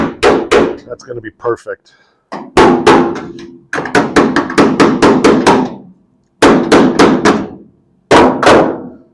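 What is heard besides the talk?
hammer tapping a metal patch into place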